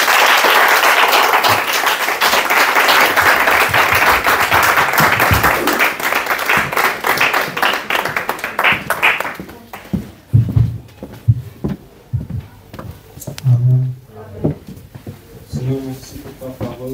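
Church congregation applauding and cheering in praise during a service, loud sustained clapping for about nine seconds, then fading into scattered voices and a few claps.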